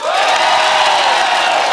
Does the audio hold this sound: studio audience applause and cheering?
yes